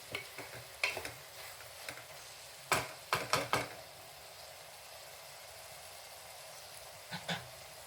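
Millet pongal made with three lentils and ridge gourd being mixed in a cooking pot, a few faint spoon knocks and scrapes over a quiet hiss, with long near-silent gaps.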